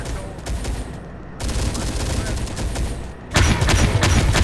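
Sustained video game gunfire right after an order to open fire in a military battle, dense rapid volleys of shots that swell louder toward the end, continuous and close with a voice speaking beneath the firing.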